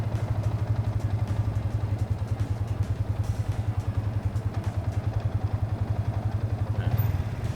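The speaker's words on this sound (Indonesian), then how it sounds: "lepas koplingnya pelan-pelan, motor bakal jalan" A manual-clutch motorcycle engine runs steadily up close with a low, pulsing idle, then swells slightly near the end as the clutch is released slowly and the bike pulls away.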